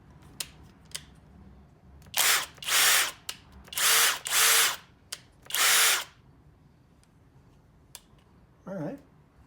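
A Kobalt cordless power tool with its battery fitted spins up in five short, loud whirring bursts, each a second or so long, with quiet clicks and handling noise between them.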